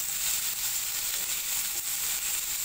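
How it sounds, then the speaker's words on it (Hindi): Chicken tikka boti frying in a pan, a steady, dense hiss and crackle of hot oil held close and even throughout, with no talking. "ये हमारे फ्राई हो रहे हैं चिकन टिक्का पोटी।"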